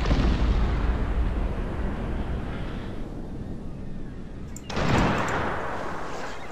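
Battle din from the Cossacks strategy game: a dense rumble of artillery and massed gunfire that eases off midway, then swells again with a sharp burst of shots, loud and continuous with no speech.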